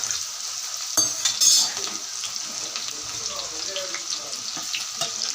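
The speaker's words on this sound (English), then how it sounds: "so I'm keeping the oil hot and adding the spring onions to it" Spring onions and chopped onions go into hot oil, giving a light sizzle with stirring and clinking under a couple of sharper knocks near the start, fairly close and moderate in level, with no talking.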